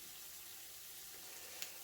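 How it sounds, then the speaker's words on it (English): Oats sizzle in oil in a pan as a soft, continuous frying hiss with one small crackle near the end, faint and steady with no voices. "So I will let that sizzle for a wee while"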